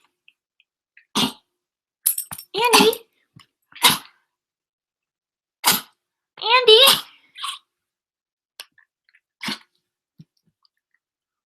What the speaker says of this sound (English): Oh, she just had a coughing fit.